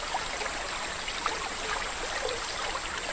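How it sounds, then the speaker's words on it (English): Small crystal-clear mountain streams flow through the untouched headwaters of Borneo's upper catchment, giving a steady, even wash of running water with no voices. "Now focus on the crystal clear water of these small streams, flowing through the untouched mountainous landscapes of the upper catchment"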